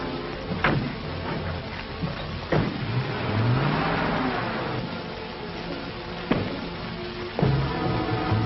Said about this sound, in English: I'll follow in my car.